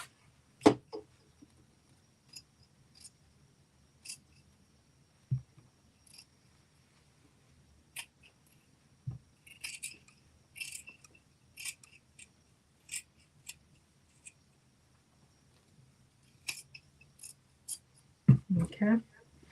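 Scissors snip through a thick fabric seam while sewing a top into shorts, giving a series of short, sharp cuts spaced irregularly and heard close up, with quiet pauses between them.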